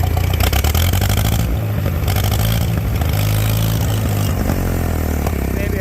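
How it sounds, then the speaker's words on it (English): A 1949 Farmall H tractor's higher-compression gasoline engine runs steadily and loudly up close, with a rough, throbbing exhaust note from a large exhaust leak. "it's a higher compression engine, but it sounds really good."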